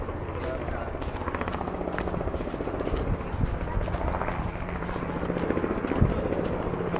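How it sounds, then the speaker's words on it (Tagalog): Helicopter flying overhead at an outdoor family gathering, its rapid rotor chop pulsing steadily under people talking nearby, moderately loud throughout. "Helicopter."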